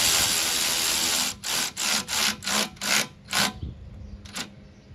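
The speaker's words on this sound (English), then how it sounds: "We can go ahead and tighten this bolt" A radiator mounting bolt being tightened on a GM minivan with a hand ratchet, a steady rasping run of clicks giving way to six or seven short repeated strokes, close and fairly loud, no talk.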